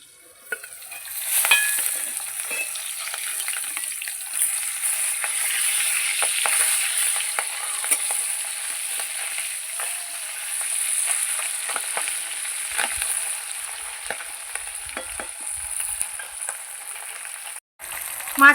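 Tengra fish frying in hot oil after being turned, a continuous close sizzle sprinkled with sharp pops and crackles, holding steady throughout with a brief dip near the end.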